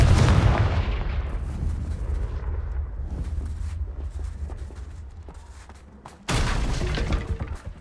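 A Confringo blasting spell bursting in Hogwarts Legacy, a loud booming explosion that rumbles and slowly fades, followed by a second abrupt blast near the end, close and with no talk.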